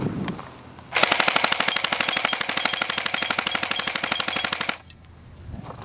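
Echo1 airsoft SMG firing full-auto at bottles outdoors, a loud, rapid continuous burst of closely spaced shots lasting nearly four seconds before stopping abruptly.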